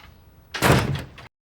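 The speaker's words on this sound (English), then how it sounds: "Shut the door, man." A door swings shut in a crime drama scene, a single firm thud with a short rattling tail, close and loud, then silence.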